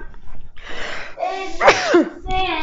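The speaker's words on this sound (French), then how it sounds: "J'allais dire que je vais éternuer, mais j'ai éternué." A single loud, close human sneeze with a sharp inhaled build-up and an explosive release, surrounded by brief breathy sounds; no words spoken.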